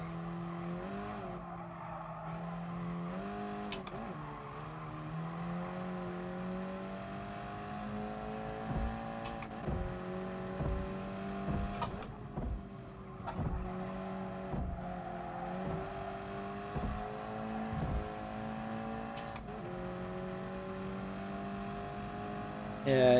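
A race car engine in GT Sport holds a steady high drone, its pitch rising through the gears with brief drops at shifts and occasional tire squeal, while a player talks over it.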